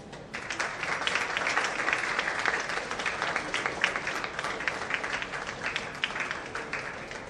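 Audience applause at the launch of Raageshwari's first affirmation CD, with many hands clapping in a dense, steady wash that holds at an even level throughout.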